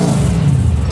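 A rally race car engine fires up with a loud, close, low rumbling drone that holds steady through the short moment.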